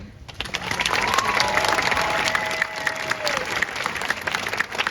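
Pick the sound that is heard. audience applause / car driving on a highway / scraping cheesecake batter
audience applause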